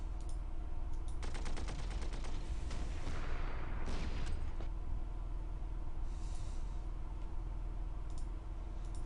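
Gunfire and artillery bursts in the Panzer Corps: Allied Corps wargame at the Battle of Crete, a rapid rattling volley swelling mid-clip over a steady low rumble, then fading to a quieter background hum.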